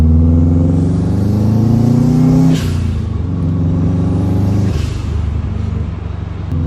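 A Subaru WRX revs and pulls away, its engine note rising through two gear changes before settling as the car moves off, loud and close with no talk over it.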